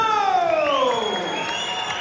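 A crowd cheers and shouts for the winning fighter at the Supershowdown fight night after Tyler Hogan vs Kelvin So, a loud, steady roar of voices with whistle-like tones sweeping through it.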